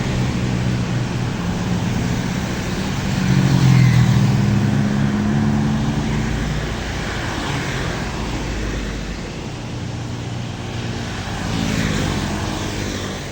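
A bus passes on the mountain road at Kedungrejo, Pujon, near Malang. Its engine rumble swells up close, then fades back into steady traffic noise, with a later vehicle rising again toward the end.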